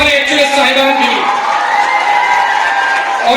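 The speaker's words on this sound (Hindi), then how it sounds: "जोरदार तालियां हमारे एचओएस साहिबान के लिए" A large school crowd at a zonal sports and cultural prize distribution ceremony claps and cheers steadily and loudly for the heads of school, a continuous roar with shouts mixed through it.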